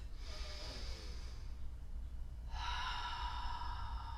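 Slow breaths during a guided wellness practice session, a soft airy inhale followed by a longer hissing exhale, faint and close over a low steady background hum.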